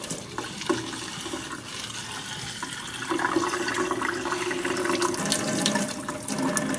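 Water runs steadily from a tap over peach quarters being rinsed, a continuous close splashing rush that grows slightly fuller partway through.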